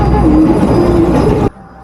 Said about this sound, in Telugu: ఇంజన్ సౌండ్ మాత్రం చాలా ఎక్కువ ఉంది